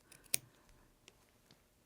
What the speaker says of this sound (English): now I'm just going to take my scissors quickly, trim off